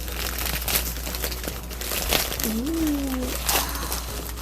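A mystery fabric subscription package holding three yards of solid colored fabric is opened, its wrapping crinkling and rustling at close range, with a brief exclamation from a voice partway through.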